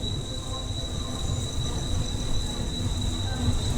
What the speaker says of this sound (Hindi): अभी लग रहा है मुझे अनशेड्यूल्ड हॉल्ट लेगी ये ट्रेन